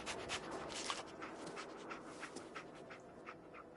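Dogmeat, the dog companion in the Fallout video game, pants and sniffs close up in a steady, breathy rhythm of quick exhalations, with no talking over it.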